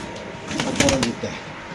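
Pigeons coo at a busy pigeon market selling fantail and other breeds, a short, close burst of throaty calls with a quick flutter of wings.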